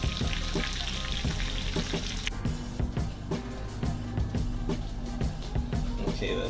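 Breaded chicken frying in a pan for a chicken parmesan, a loud, continuous, close sizzle and crackle throughout, with occasional clatter of handling.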